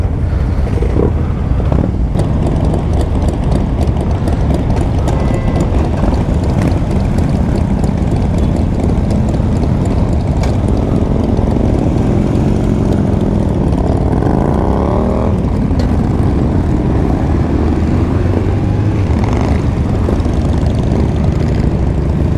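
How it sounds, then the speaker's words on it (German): Many Harley-Davidson and cruiser motorcycles running together on a charity ride, a dense, loud, continuous engine rumble with overlapping revs throughout. "Ist ja geil, wenn so viele Harleys oder allgemeine Shopper starten."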